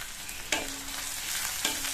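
Small onions, curry leaves, dried and slit green chillies sauté in a pan, a soft continuous sizzle with a couple of sharp stirring scrapes of the spatula.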